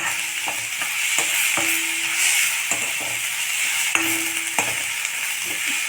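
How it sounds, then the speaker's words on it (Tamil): Cumin and cumin powder frying until golden for hotel-style jeera rice, a steady broadband sizzle with repeated short scrapes and clicks of a spoon stirring the pan, close and continuous with no talk. "ஒரு கோல்டன் கலரில் நல்லா ஃப்ரை ஆகும்"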